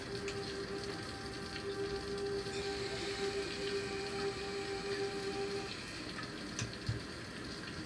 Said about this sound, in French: tu vois la pluie tomber doucement